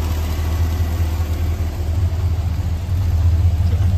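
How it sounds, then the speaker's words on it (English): A 1969 Chevrolet C10 pickup truck's dual exhaust idles steadily with a deep, even low rumble, close and continuous with no talking. "Listen to that exhaust here."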